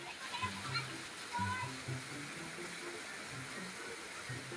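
A small mini waterfall at Barangay Diongan, Siayan, Zamboanga del Norte, rushing steadily at moderate distance, with people talking over the constant water noise.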